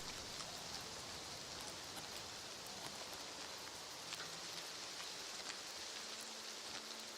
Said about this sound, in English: I can't hear much. Except for rain.